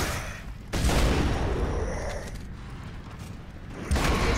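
Gunfire in the video game Gears of War 2, heavy booming bursts with mechanical clatter, one sustained volley early and another surge near the end, loud and close within a busy battle mix.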